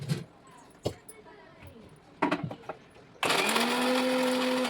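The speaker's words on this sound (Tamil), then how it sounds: "நம்ம வந்து நல்லா மிக்ஸியில் போட்டு அரைச்சி எடுத்துக்கலாம்" A kitchen mixer grinder grinds ginger and garlic, starting abruptly after a few clinks and knocks and running as a loud, steady whir to the end.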